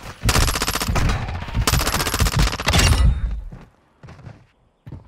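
Call of Duty MW2 gunfire in a Search and Destroy match: long, loud bursts of rapid automatic shots, then fainter scattered thumps and distant shots trailing off, with no voices.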